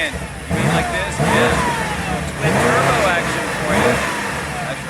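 A twin-turbo car engine revs hard in repeated rising and falling sweeps, about four loud pulls within a few seconds, close up and dominant.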